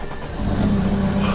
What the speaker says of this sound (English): Do you hear that engine purr?